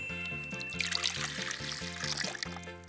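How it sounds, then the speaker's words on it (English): Lemon juice pours into a giant pitcher in a close, steady trickling stream, with music playing underneath throughout. "So we need to now pour this in our giant pitcher."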